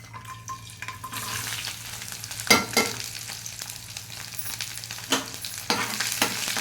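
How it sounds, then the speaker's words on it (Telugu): Ridge gourd frying with garlic, cumin and chillies in a pan gives a steady close sizzle, with sharp clatters now and then as it is stirred. "జీలకర్ర ఎక్కువ వేస్తున్నాను ఈ బీరకాయ ఇలాగ ఇందులో ఫ్రై చేస్తాను చూడండి"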